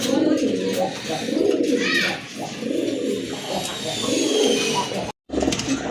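Pigeons coo in a steady, repeating rhythm of low, throaty calls, fairly close, at a pigeon market, with a brief gap of silence near the end.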